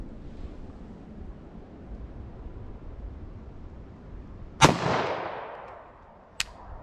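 A single sharp pistol shot from a short-barrel .40 S&W handgun firing FMJ rounds at an outdoor range, loud with a trailing echo, followed about two seconds later by a fainter second crack over steady wind noise.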